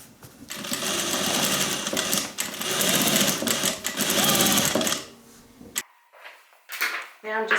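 A sewing machine runs a straight stitch along a seam with a 1/4 inch allowance. It whirs steadily for about five seconds, then stops and gives a few clicks and taps.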